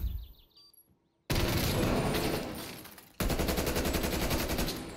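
Rapid bursts of automatic gunfire from a first-person shooter's Search and Destroy match, loud and dense, cutting in twice after a brief quiet gap, with no voices over them.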